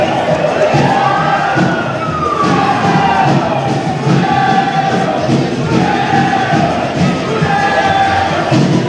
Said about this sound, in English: this crowd is starting to erupt over here